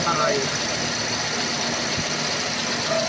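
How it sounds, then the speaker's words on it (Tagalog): A car engine idles steadily after a spark plug replacement, a continuous mid-pitched running hum with slight vibration, close and fairly loud throughout with no break in its rhythm. "Napakaganda na ng andar ng makina mo."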